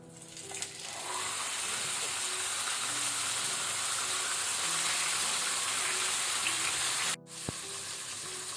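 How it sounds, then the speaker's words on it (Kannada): Marinated pomfret sizzles steadily in hot coconut oil over a medium flame, a loud, continuous frying hiss that holds for most of the stretch before dipping briefly near the end. "ಈಗ ನಾವು 1 ಅವರ್ ಮ್ಯಾರಿನೇಟ್ ಆದ ಮೀನನ್ನು ಹಾಕೋಣ."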